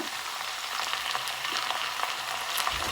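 Chopped onions fry in oil left over from cooking fish, a soft steady sizzle with occasional light stirring clicks, fairly quiet and close, with nobody talking.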